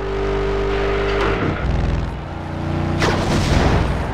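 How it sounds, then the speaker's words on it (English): Vehicles collide in the WWE Crush Hour combat driving game, a steady engine drone suddenly broken by a loud crash, followed by a second heavy impact burst a moment later. "A huge collision instigated there by Chris Jericho."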